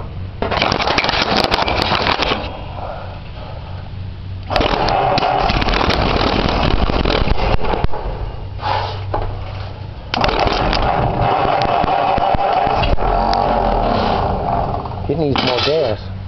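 An old engine that burns oil out of its cylinders runs roughly and loudly in bursts, revving up and dropping off with a couple of pauses between runs, with some talk mixed in.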